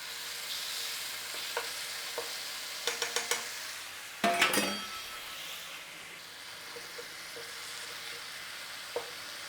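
Garlic ginger paste fries in a lightly oiled pan with a soft, steady sizzle. A spoon scrapes and stirs it in a few sharp clusters of close clicks and one louder clattering burst.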